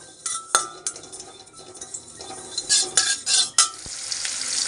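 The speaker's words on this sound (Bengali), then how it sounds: "এখানে আমি মাছের ঝোলের জন্য জিরাটা ভেজে নিচ্ছি" Cumin seeds sizzle in a pan for a fish curry while a utensil stirs and clinks against the metal in sharp, uneven taps over a soft frying hiss, with no talk.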